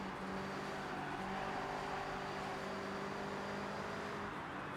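Subaru driving in the racing game Forza Horizon, a steady even engine hum with a held tone at constant moderate loudness and no speech over it.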